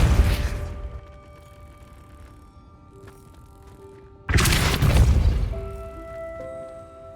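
Two loud bursts from the Depulso force spell in the Hogwarts Legacy video game, each a sharp blast with a booming tail, separated by a quieter stretch of ambient hum and faint tones.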